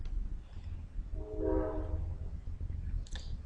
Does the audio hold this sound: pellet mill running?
no